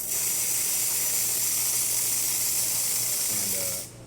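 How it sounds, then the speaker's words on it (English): Steam wand on an Andreja Premium Evo espresso machine hisses loudly and steadily at close range for about four seconds, then cuts off abruptly at the end. "as you can see here, we have good steam pressure"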